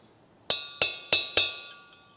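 Four sharp metallic strikes ring out as a chisel is hammered against the inner races of a wheel bearing on a Case 1840 skid steer during restoration. Each clean, bright clink decays quickly, evenly spaced and close, with no talking.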